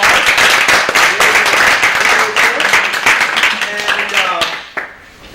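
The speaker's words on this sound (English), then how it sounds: "please join me in giving a round of applause" An audience at a lecture on reengagement with Iran claps warmly after a talk, the crisp close handclaps holding steady, then tapering off as a voice starts to speak at the end.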